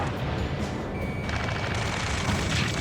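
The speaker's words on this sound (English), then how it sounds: "Taking fire! We're pinned down! Shoot back!" Dense, continuous gunfire rattles through a combat scene in the video game Ace Combat 7: Skies Unknown. Loud bursts and booms overlap without pause.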